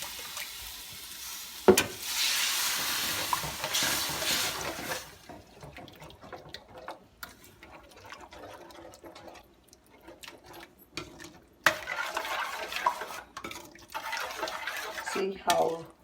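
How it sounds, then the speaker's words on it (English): Tomato paste thinned with a cup of water simmers and gets stirred in a cooking pan while making dal makhani, giving a steady wet bubbling and scraping wash with a few sharper clatters, close and moderately loud. "See, the sauce is all cooking."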